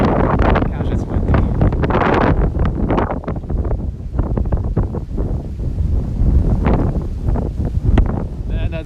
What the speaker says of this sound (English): It's just strong wind. My gosh, it's really strong.